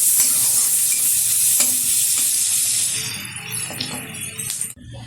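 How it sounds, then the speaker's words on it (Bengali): Chopped small onion with a pinch of turmeric frying in hot oil, a loud close sizzle with stirring scrapes and a few light clinks, easing toward the end before cutting off. "এখন এই তেলে দিয়ে দেবো খুব সামান্য পরিমাণে একটু হলুদ গুঁড়ো, দিয়ে দেবো কুচিয়ে রাখা একটা ছোটো সাইজের পেঁয়াজ।"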